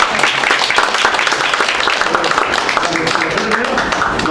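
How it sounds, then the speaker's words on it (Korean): Dense, loud applause fills an election campaign office opening for a district mayoral candidate, a crowd clapping steadily and close without pause for several seconds. "박수 한번 보내주시고"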